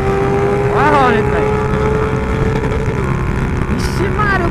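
A Honda Hornet motorcycle ridden fast on a Brazilian street, its engine droning loud and close with rising and falling whines as the gears shift. Wind buffets the microphone throughout.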